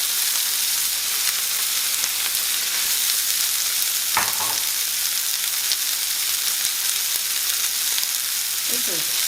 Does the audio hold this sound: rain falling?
no